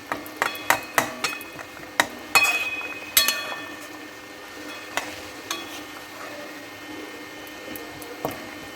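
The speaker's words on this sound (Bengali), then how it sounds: "দিয়ে আমি এটা নেড়ে দিলাম" Stirring food in a cooking pan while making an egg and vinegar recipe, with a series of sharp utensil taps and scrapes against the pan over a faint background hiss.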